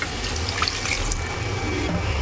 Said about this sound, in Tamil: நம்ம ஆல்ரெடி குக்கரில் இருக்கிற வாட்டர் இருக்கும் இல்லையா, அந்த வாட்டரையும் இதோட ஆட் பண்ணிடலாம்